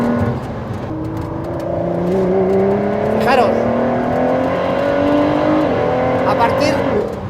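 A Ford GT engine revs and accelerates in a long rising pull, its tone climbing steadily over several seconds with gear changes, loud and close, while someone talks over it.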